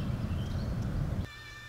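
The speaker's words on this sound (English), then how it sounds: "And that is the sound of the water rushing." Floodwater on the Mississippi River roars over a dam as a steady, loud broadband rush that cuts off abruptly near the end, leaving a quieter hum.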